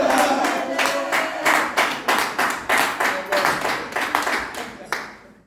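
Church congregation clapping in praise of the Lord, a steady rhythmic run of about a dozen sharp, evenly spaced claps, close and loud, with voices mixed in.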